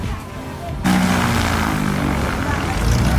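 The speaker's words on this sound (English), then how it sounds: "we are now getting on this tiny little plane" A tiny propeller plane's engine drones loudly and close at an airport in Panama, jumping up in volume and holding a steady roar with voices talking over it.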